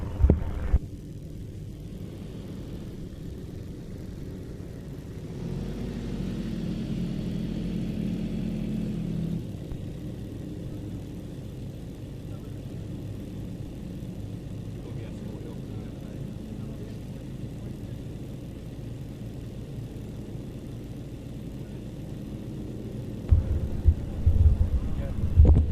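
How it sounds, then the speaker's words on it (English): A low-horsepower aeroplane engine at an airshow, droning steadily as a low rumble that swells briefly and then settles, with louder thumps and knocks near the end. "the throttle does not change the performance of the aeroplane one jot. It just alters the noise."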